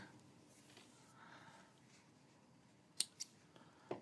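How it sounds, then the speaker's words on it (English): Scissors snip through the end of a sewing thread in a quiet indoor craft setting, giving two or three small crisp clicks close by, with a final click after a short pause. "Cut off the end of the thread."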